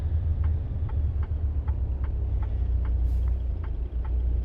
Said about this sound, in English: You can kind of hear the engine brake when I get into it.